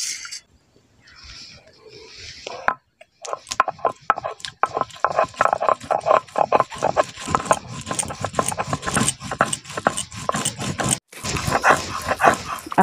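Whole cumin, peanuts and coriander leaves are ground together into a vegetarian spice paste for cauliflower, giving a dense run of rough, rhythmic scraping and grinding bursts close by after a quiet start.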